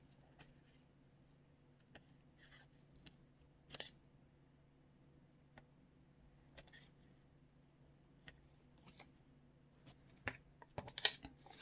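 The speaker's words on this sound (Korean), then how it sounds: "먼저 얘를 어깨 부분만 살짝 이렇게 잘라주세요." Scissors snip paper card in short, sparse cuts with small crisp clicks scattered across a quiet room, getting a little busier toward the end, with no talking.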